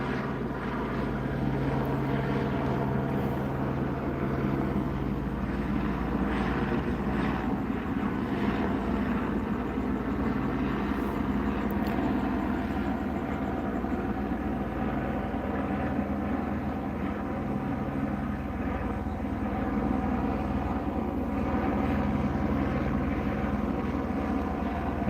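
A police helicopter hovers overhead during a manhunt search in La Puente, its rotor and engine drone steady and continuous for the whole stretch, fairly near with no talk.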